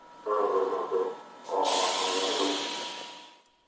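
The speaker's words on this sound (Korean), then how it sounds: "(23년을) 한결같이 일해온 기관사 정철 씨가 곤히 자던 열차를 깨웁니다." A Busan Metro Line 2 subway train starting up lets out a short hiss of air, pauses, then releases a longer, loud hiss that slowly fades away.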